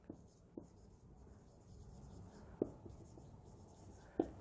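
Pen writing a maths formula on paper during a lesson, with soft scratchy strokes and a few brief taps, close and quiet, with no talking.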